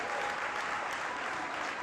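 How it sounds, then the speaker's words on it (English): Dense, even applause from a conference audience at an annual general meeting, a steady wash of many hands clapping with no pauses. "So I think we do a bigger applause than that."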